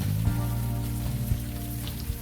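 Steady rain falls in the point-and-click game Unavowed, a soft, continuous hiss of drops on surfaces under a low, constant hum, with a few slightly sharper patters breaking through.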